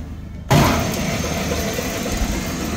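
A Hollymatic 180-A mixer grinder with a 10 horsepower motor and 200 pound hopper starts up in mix mode, paddles turning, giving a sudden loud onset followed by a steady, close machine hum and rumble.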